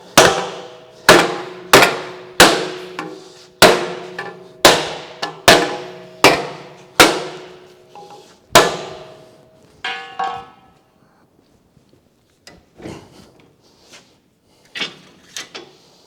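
A wooden hammer strikes metal over a soft pine block, shaping a tapered tubular section for a 1920s convertible top: about a dozen sharp, evenly spaced ringing blows, then lighter, scattered taps trailing off.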